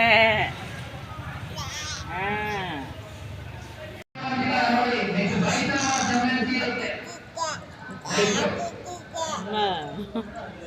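People talk and repeat drawn-out wavering calls, a voice mimicking a sheep's bleat several times amid lively chatter.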